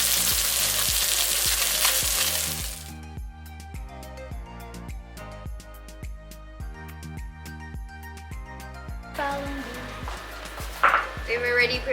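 Salmon fries skin-side down in a pan, giving a loud sizzle that opens the stretch and returns near the end, with music playing between the bursts.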